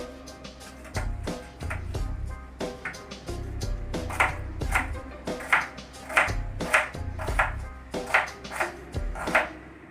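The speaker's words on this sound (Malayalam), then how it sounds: "ഇനി ഇത് നമുക്കിതൊന്ന് അരിയാം" Knife chopping ingredients for a chutney on a board, a steady series of sharp, close taps with some pauses and a faint low background hum.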